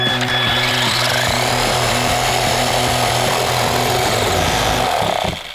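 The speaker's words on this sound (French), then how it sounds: "il est possible de scier une boîte avec un tel disque" A saw disc fitted to a radio-controlled car cuts into a box with a loud, continuous, harsh buzzing whine. A rapid rhythmic chatter runs beneath it and trails off at the end.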